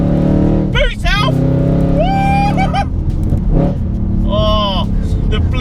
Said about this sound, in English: the blip down, you can blip this car so well